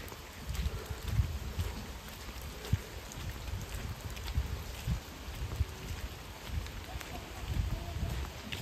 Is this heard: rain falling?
yes